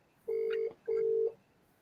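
Two long, even electronic telephone ring tones sound one after another, close and clear, separated by a short pause against a low background hiss.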